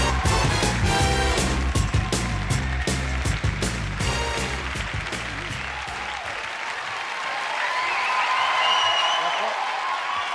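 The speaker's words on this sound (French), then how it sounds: "Applaudissements, mesdames, messieurs" TV studio audience applauding on a French variety show as a guest is welcomed: loud, steady clapping that swells and fades, with someone talking over it and music underneath.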